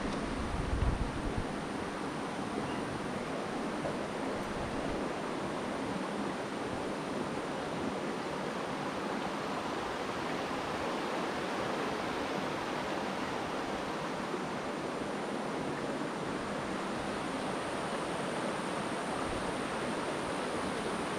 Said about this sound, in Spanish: Bonito se escucha el sonido del agua.